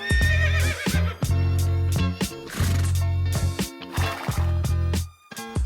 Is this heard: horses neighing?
yes